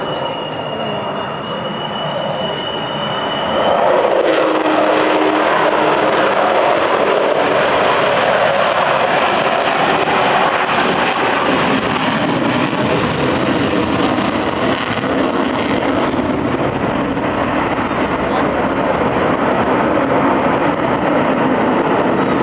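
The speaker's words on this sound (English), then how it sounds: "That's the sound of 4 Rolls-Royce Bristol Olympus engines." Loud, sustained roar of an Avro Vulcan bomber's four Rolls-Royce Bristol Olympus jet engines building into a powerful howl with a rising whine, steady and close, no voices.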